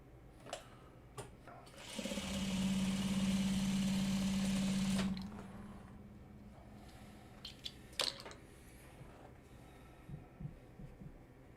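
A sewing machine stitches a Buzzard's Roost quilt block unit in one loud burst of about three seconds, a steady humming whir, then stops. Quiet handling clicks and rustles follow.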